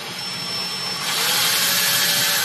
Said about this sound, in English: I'm using a very small drill bit.